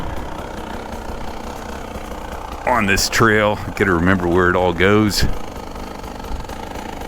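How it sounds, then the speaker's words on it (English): A Beta 300 Race Edition two-stroke dirt bike engine on a trail revs up in several rising and falling bursts, loud and close, between stretches of low idle-like chugging, with a rider talking over it. "this is what I like about that Beta engine. Just runs so clean and smooth."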